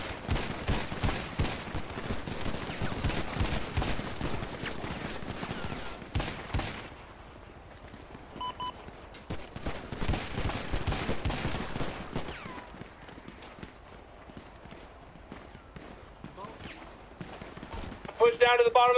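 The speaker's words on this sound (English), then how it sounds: "I will start shooting." Gunfire rings out during a police shootout in a video game, dense rapid bursts of shots in the opening seconds, then a second flurry midway, with people talking over the action throughout.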